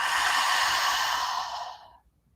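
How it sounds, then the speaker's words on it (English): A big open-mouth exhale during a yoga session, one long breathy whoosh up close that gradually fades away over about two seconds. "Big open mouth exhale out."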